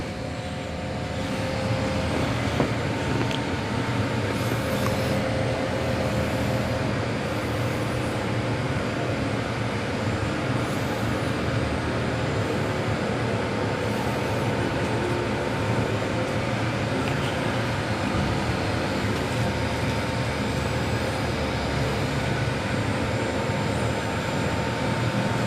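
A Dyson 360 Vis Nav robot vacuum runs on a low power setting, giving a loud, steady, broadband whooshing roar of airflow and motor that holds unchanged and close throughout, with no talking.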